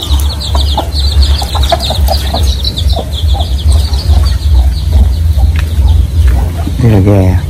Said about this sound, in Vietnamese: Đây là gà.